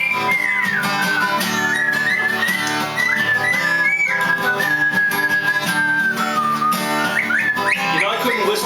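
Pet caique parrots whistle the melody of a song indoors in Maine, a sustained, wavering whistled tune running steadily at full loudness throughout.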